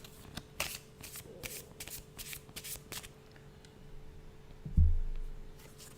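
A new Oracle of Mystical Moments card deck is riffled and shuffled in quick repeated bursts, close and fairly quiet, ending with a soft thump of the cards.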